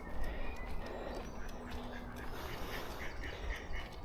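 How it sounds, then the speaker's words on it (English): Ducks quack faintly in the distance at a Centre Parcs holiday park, their scattered calls half buried under a steady wash of outdoor ambient noise. "Now we've got some ducks here."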